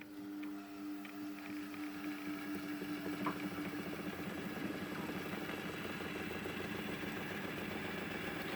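A Revox A77 reel-to-reel tape recorder spooling tape in fast-forward: a steady, fairly quiet mechanical whir with a faint hum and small clicks, running continuously without speech.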